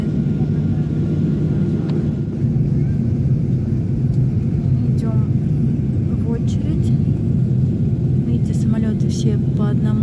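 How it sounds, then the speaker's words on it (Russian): Jet airliners take off one after another at an airport, heard as a steady broad engine roar and rumble throughout, with a person talking over it at times. "классный вид здесь на взлетающие самолеты"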